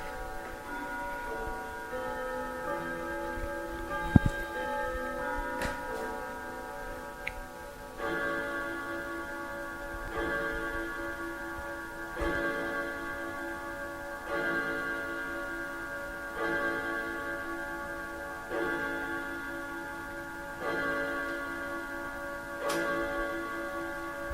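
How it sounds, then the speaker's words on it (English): An ornate grandfather clock chiming in a room, a sequence of sustained bell tones ringing out in regular strokes with lingering overtones, its steady ticking faintly underneath. "Beautiful grandfather clock"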